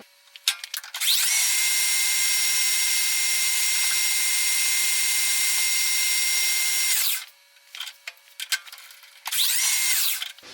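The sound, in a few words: metal lathe facing and turning a tap handle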